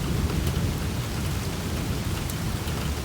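Rain and thunder during a storm over a farm near the Oklahoma Panhandle, a constant wash of rainfall over a deep, rolling low rumble, steady and fairly close, with no talking.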